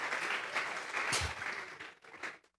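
A church congregation claps together in a burst of applause for God, the clapping fairly distant and soft, swelling briefly in the middle, then trailing off into quiet.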